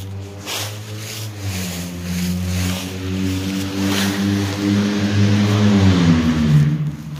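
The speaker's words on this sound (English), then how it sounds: "Listen to that loud car." A car engine rumbles and revs up nearby, its pitch rising and falling with a loud, throaty growl.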